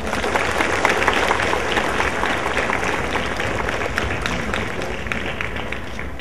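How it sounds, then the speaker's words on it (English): A crowd of students and guests gives a sustained round of applause at a school's Green Day event, dense, even clapping holding steady for several seconds at close range. "So please give him a loud round of applause."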